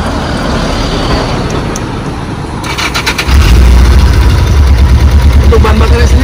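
A Yamaha police motorcycle engine starts with a sudden jump in level about halfway through, then settles into a steady low idle. Background noise and voices can be heard before the start.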